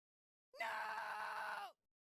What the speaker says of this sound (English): That scream was oddly truncated.